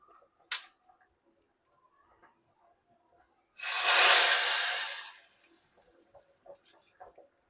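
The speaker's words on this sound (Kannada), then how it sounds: "ಕುದೀತಾ ಇದೆ. ಇದಕ್ಕೆ ಹಾಕ್ತೀನಿ ಒಗ್ಗರಣೆನ." Tempering of mustard seeds, curry leaves, dried chillies and asafoetida is poured into boiling drumstick, potato and dal sambar, making a loud sudden hiss that swells for about two seconds and fades, with faint ticks before and after.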